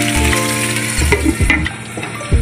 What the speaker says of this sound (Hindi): इसे भून लीजिए और उसके बाद अब आप इसमें आलू डाल देंगे और नमक